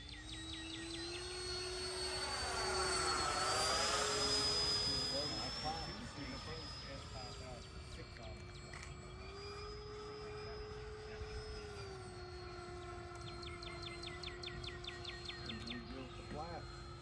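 An FMS Yak-130 70mm electric ducted-fan RC jet whines steadily overhead, its pitch sweeping and its loudness swelling then easing as it passes and comes in to land, heard at a moderate distance in open air.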